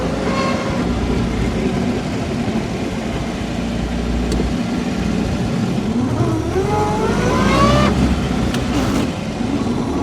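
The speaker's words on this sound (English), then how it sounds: "Oh, nasty gear change there." A 1926 vintage car driving with a steady rough engine drone and road rumble, its pitch sweeping as the driver makes a rough gear change near the end, continuous and fairly loud with no talk.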